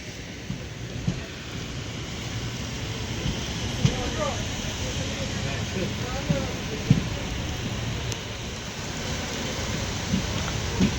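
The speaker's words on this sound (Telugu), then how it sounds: "రేణుగుంట ఫుల్ వర్షం పడుతుంది చూడండి" Heavy rain pours at Renigunta, heard from the Chennai superfast express, as a steady, dense wash of rain with occasional sharp taps and clicks throughout.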